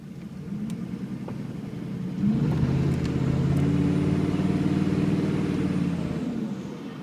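A 6.5L turbo diesel running through a straight-pipe exhaust with no muffler, soot trap or catalytic converter, a loud close rumble that swells midway and holds steady.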